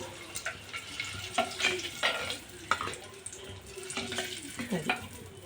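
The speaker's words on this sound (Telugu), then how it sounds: "ఎగ్స్ వేగనివ్వాలి ఎక్కువగా కాకుండా నార్మల్గా మీడియం సైజులో వేపుకోవాలి ఎగ్స్" Boiled eggs with onion frying in a pan at medium heat: an uneven, moderate sizzle with intermittent stirring scrapes and clinks, a few liquid splashy bursts, no voice.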